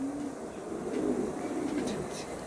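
Pigeons at a loft sale in Nalpur, Howrah, cooing in low rolling bursts close by, with faint chirps above and a steady background murmur.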